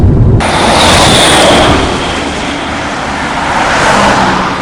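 Road traffic rushes past in a loud, continuous roar on a breezy roadside, the sound swelling and easing as vehicles pass close by, with no voices.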